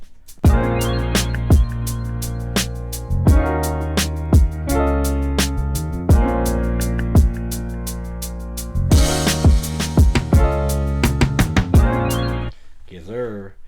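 A hip-hop beat plays loud and steady, with punchy drum hits, a drum fill and a booming 808 tom under a harmonic sample loop, running continuously for about twelve seconds before a brief, different sound at the end.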